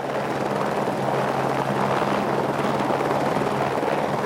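A helicopter runs steadily nearby, a dense, continuous rotor and turbine roar with no pauses and no voices.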